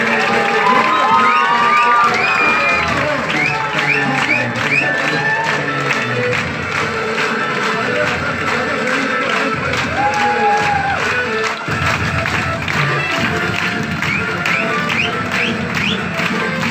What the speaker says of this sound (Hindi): आप लोगों की जोरदार ताली के साथ